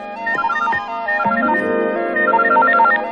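A phone ringtone plays a bright, repeating electronic melody in short looping phrases, loud and close, with no voices.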